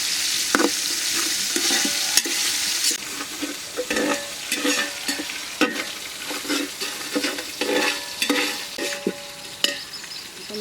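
Chicken pieces with spices fry loudly in oil, and a spatula stirs through them with repeated scraping strokes over a continuous close sizzle.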